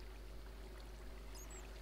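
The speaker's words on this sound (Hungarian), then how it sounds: "Gyors folyású víz." Fast-flowing water in Minecraft runs as a faint, steady pouring stream, continuous and quiet with no voices over it.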